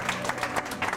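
Applause for Mavia Jameel on a Pakistani morning TV show, a steady wash of clapping with several louder swells across one second.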